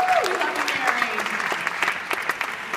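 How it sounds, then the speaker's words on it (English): Applause from a keynote audience at a virtual reality conference in Miami, a steady dense clatter of clapping with a voice heard over it. "let's give one more round of applause for Mary hiding backstage now"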